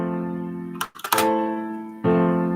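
Sustained keyboard chords ring out close by, interrupted briefly by a clatter of shifting notes before another chord sounds.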